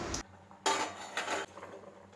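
Aviyal vegetables are turned in a pan with a spoon, giving a few short metallic clinks and scrapes up close, separated by quiet pauses.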